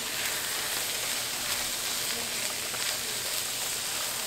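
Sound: cabbage and fat back frying in a pan

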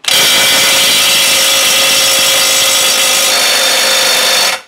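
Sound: cordless brushless impact wrench loosening a nut at 700 Nm

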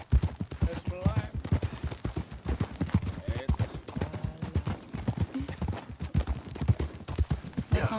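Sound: horse galloping hooves, from video game Red Dead Redemption 2

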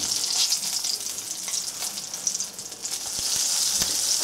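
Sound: carp fish frying in a pan

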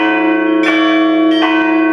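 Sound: church bells ringing

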